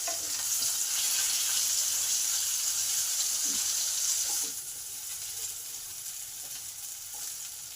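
Potatoes frying in hot oil in a home kitchen, a loud, steady broadband sizzle that softens partway through and continues at a lower level, with a few faint utensil clinks.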